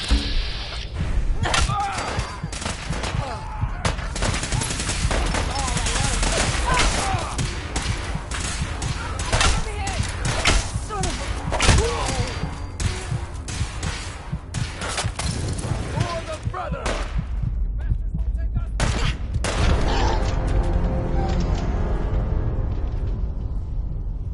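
Dense, sustained gunfire and impact thuds from combat in the video game Fallout 4, loud and continuous for most of the stretch with heavy bursts, easing toward the end, with a voice calling out over the fighting.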